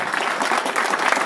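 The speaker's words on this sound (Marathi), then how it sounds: "या तरुण मित्र मंडळी करता पहिल्यांदा एकदा जोरदार टाळ्या वाजवा" Loud, steady applause from a festival gathering audience, dense clapping filling the whole moment without any voices over it.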